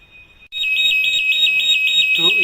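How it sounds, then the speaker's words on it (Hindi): A Buchholz relay alarm hooter on the transformer panel of a 12MVA oil-cooled transformer switches on abruptly and blares a loud, sustained electronic tone, with a voice briefly heard near the end. "ये अपना हूटर ऑन हो गया है, साउंड कर रहा है"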